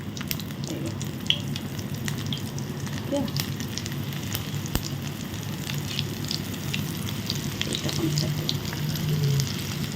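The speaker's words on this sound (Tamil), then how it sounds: "எண்ணெய் நல்லா கொதிச்சிருச்சு இப்போ நம்ம இந்த ஆனியன் போட்டுருவோம்" Spring onions frying in hot boiling oil, a constant close crackling sizzle with scattered pops and spits over about ten seconds.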